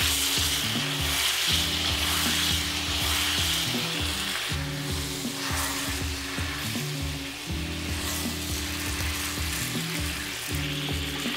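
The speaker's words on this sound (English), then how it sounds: "move the pork around to help cover it with the sauce. It should become a bit thick and stick to the surface of the chashu." Chashu pork sizzles and fries steadily in a thickening sauce in a pan, with intermittent stirring scrapes and clatter as the pieces are moved around, close and continuous with no voices.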